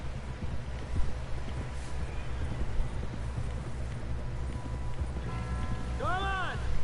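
Hooves clip-clop steadily beneath a horse ridden in Red Dead Redemption 2, a close, continuous gallop under speech, with a sharp whinny-like cry rising near the end.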